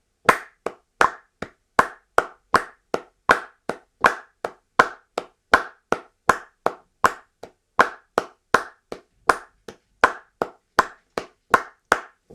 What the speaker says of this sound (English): Let's try clapping some eighth notes by themselves with a metronome.